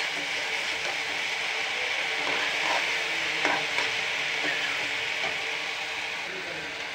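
Water spinach fries in a pan over low heat with a steady, even sizzle, while a utensil scrapes and stirs through it in a few soft clicks.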